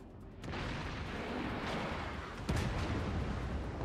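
Warship guns fire in the naval combat game World of Warships, a dense rumbling roar of battle with a heavy boom landing midway, loud and sustained.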